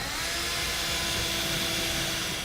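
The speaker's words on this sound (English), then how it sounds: "Again, using a step drill bit, I'm going to drill out my pilot holes to a 9/16 hole." A step drill bit drilling out pilot holes to 9/16 inch makes a continuous, loud, high whining grind with no pauses.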